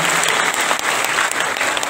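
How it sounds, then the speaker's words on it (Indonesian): Loud, continuous audience applause for the Hanura party at its anniversary event: close, dense clapping from a large crowd that stays level throughout. "Tepuk tangan sekali lagi buat Hanura."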